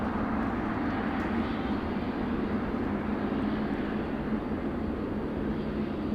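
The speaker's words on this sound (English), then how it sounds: "Southwest Airlines, heading to the runway for departure." A Southwest Airlines jet in Louisiana One livery taxis toward the runway at Los Angeles International Airport, its engines a steady, broad drone with a low hum that stays even and moderately close throughout.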